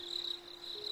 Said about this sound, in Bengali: থেকে থেকে ঝিঝি পোকার ডাক শোনা যায়।